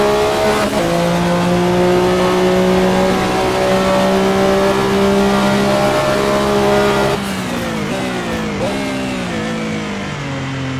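A car engine in a PS4 manual-transmission driving simulator game revs loud and sustained, pitch climbing and dropping through gear changes, with tire squeal near the end.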